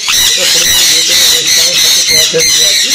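Sun conure parrots at a bird farm let out loud, harsh squawks in repeated bursts close by, while people talk over them throughout.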